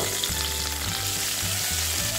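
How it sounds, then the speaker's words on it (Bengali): Cauliflower florets frying in oil in a pan, a steady dense hiss with low crackling pulses, no voices. "এবার এই ফুলকপিগুলো একটু ভেজে নেব,"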